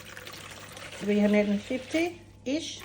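Water is poured into a container for sourdough dough, a brief splashing pour at the start before a person talks over the rest.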